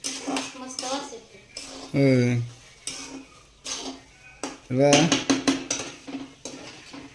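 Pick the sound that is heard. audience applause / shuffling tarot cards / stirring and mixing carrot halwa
stirring and mixing carrot halwa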